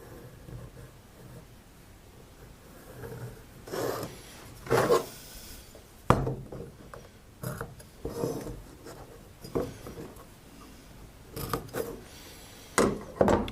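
A marking tool scribes lines on wood for a tenon, giving short, quiet rasping scratches in irregular bursts with pauses between strokes, close by in an otherwise hushed space.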